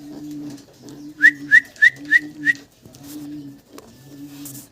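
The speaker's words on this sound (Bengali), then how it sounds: "চমৎকার এক জোড়া মডার্না কবুতর আপনাদেরকে দেখাচ্ছি" A pair of Modena pigeons calls at close range: a low, steady cooing drone runs throughout, broken by a quick series of five sharp whistled notes in the middle, with no talking.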